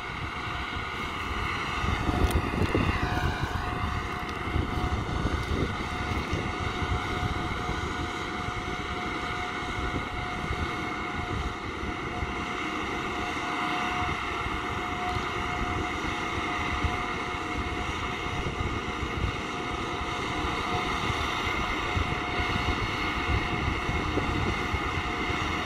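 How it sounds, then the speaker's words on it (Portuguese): Tractor engine labouring steadily as it climbs a steep slope, a continuous loud drone with strong low rumble and sustained tonal whine throughout, no talk. "O trator ali vem rasgando tudo ali"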